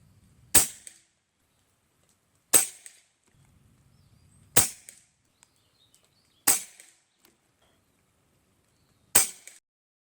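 Five sharp air rifle shots from an Airmaks Arms Katran Long firing 18.13 grain JSB pellets, evenly spaced about two seconds apart, each a crisp loud crack with a short tail and near-silence between.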